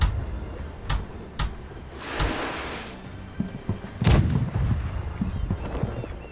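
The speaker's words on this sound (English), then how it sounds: "Gibson, load the starboard cannons with grapples!" A volley of ship cannon fire in the video game Blackwake: several sharp booms at uneven intervals, each a loud crack followed by a short rumbling decay.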